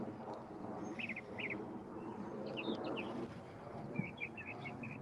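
Scattered bird chirps and short twittering calls sound at moderate distance outdoors on an overcast day, over a steady low rumble of background noise.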